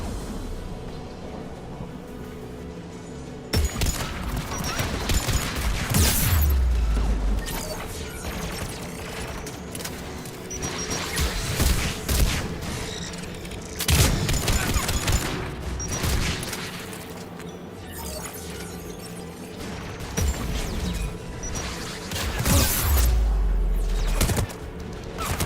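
Guns protecting a tower fire in the game Mass Effect 3, recurring loud booming volleys and mechanical rattling over a steady battle rumble, with intermittent voices beneath.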